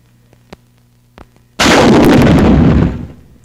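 A bazooka fires a wire dispenser MX-301G loaded with 3,300 feet of communication wire, a single loud blast that holds as a roaring rush for over a second and then fades, after a few faint clicks.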